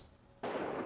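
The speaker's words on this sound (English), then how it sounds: "Winchester." Winchester rifle gunfire: after a quiet moment, a sudden loud, noisy blast that holds steady to the end of the brief clip.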